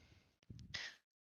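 A single short, quiet sneeze, a brief sharp burst of breath that cuts off into silence.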